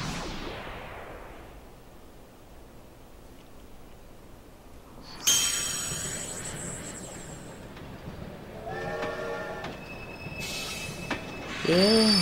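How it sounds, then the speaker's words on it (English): Train in Kingdom Hearts 2 rumbling as it pulls into its destination, with squealing wheels, a hiss and metallic ringing tones as it comes to a stop. "the choo-choo train has arrived at its destination"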